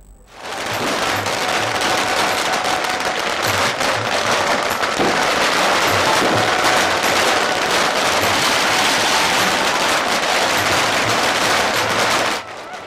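Dense, continuous crackling barrage of firecrackers bursting nonstop for several seconds at a temple fair in Banahatti, Bagalkot, loud and close, with a roaring wash beneath the rapid pops.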